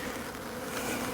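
Honeybees streaming out of a hive in November, a dense steady buzzing hum of many wings close by, with no voices over it.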